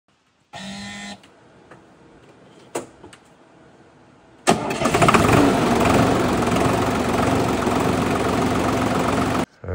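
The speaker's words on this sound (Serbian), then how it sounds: "Motor je Sonalika Tier 3A" An ArmaTrac 604e tractor's Sonalika Tier 3A diesel engine cranks and starts with a loud rumble, then settles into a steady, close idle that runs for several seconds before cutting off.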